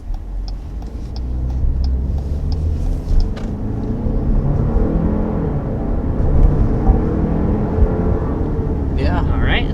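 A 2022 Jeep Grand Cherokee 4xe hybrid SUV accelerates hard toward 60 mph with a low, swelling engine and road rumble from inside the cabin, while someone talks over it.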